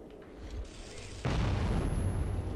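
A hand grenade blast on a bridge in the video game Metro 2033, a sudden loud booming burst that cuts in midway and rumbles on with dense, sustained low-end noise to the end.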